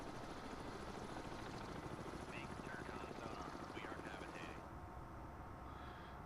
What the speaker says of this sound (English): We have got the helicopters overhead.